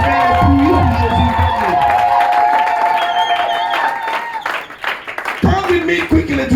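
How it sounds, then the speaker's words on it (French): A church congregation claps and cheers loudly during a worship service, with a dense crowd roar, shouts and whoops. The noise dips briefly and then surges again near the end. "comment applaudir et faire un bruit pour Jésus"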